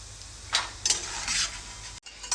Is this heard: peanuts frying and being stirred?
yes